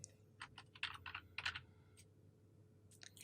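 Keys clatter on a computer keyboard while a cell is edited in an Excel spreadsheet: a quick burst of close, crisp taps, a short pause, then a few more keystrokes.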